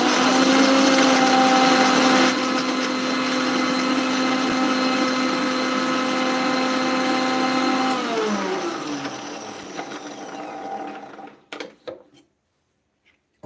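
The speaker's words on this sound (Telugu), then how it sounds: "ఇలా అయితే కోర్స్గా మిక్సీ పట్టుకున్నాను" A mixer grinder coarsely grinds ginger and coconut masala with a loud, steady whir that winds down in pitch as the motor spins to a stop, followed by near silence and a few faint clicks.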